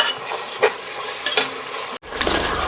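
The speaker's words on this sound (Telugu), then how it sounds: "దాంట్లో జింజర్ గార్లిక్ పేస్ట్ వేస్తున్నాను కొంచెం. ఇది ఫ్రై అవ్వాలి." Ginger garlic paste sizzling in hot oil over shallow-fried onions for Andhra-style bagara rice, a close, steady crackle broken by a few stirring scrapes and a brief cut near the end, with no voices.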